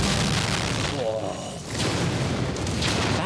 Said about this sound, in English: That's a good-looking explosion.